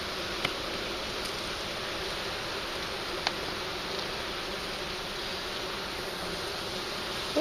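Honey bees hum in a steady, dense drone from an open hive nearby, with a faint tick or two and no voices.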